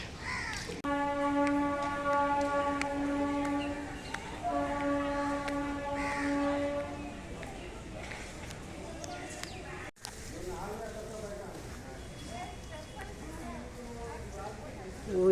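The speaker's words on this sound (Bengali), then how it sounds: "দূরে চক্র রেল চলে যাচ্ছে" A circular railway train passes in the distance beside the Ganges, sounding two long, steady horn blasts. Crows caw afterward over faint outdoor background noise.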